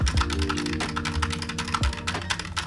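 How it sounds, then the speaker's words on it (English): Typing on a tenkeyless (TKL) computer keyboard at a desk setup, a fast, steady clatter of close key presses with occasional heavier thocks, heard alone without talk. "this is a TKL or 10 key less keyboard"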